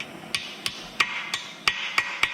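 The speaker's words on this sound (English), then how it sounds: "With a hammer, tap it in place." A hammer taps a metal part into place on a skid steer auger build, seven sharp metallic strikes in a steady rhythm, close and alone.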